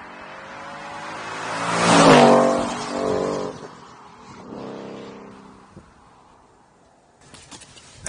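A car sweeps past on a flyby, its engine rising to a loud close peak at about two seconds and then receding, with a fainter second swell of engine noise afterward.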